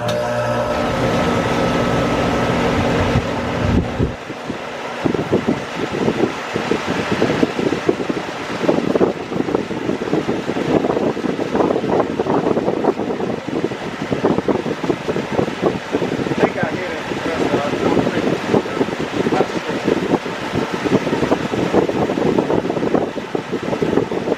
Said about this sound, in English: hope that compressor kick on